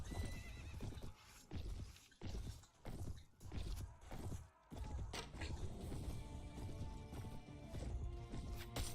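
Horse whinnies and hooves clip-clopping in a medieval combat video game, with loud neighs and irregular hoofbeats rising and falling, a busy backdrop of battle noise behind them.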